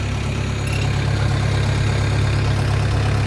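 A loud, steady Kubota rice harvester engine rumbles continuously at a constant pitch, close by, with no talking.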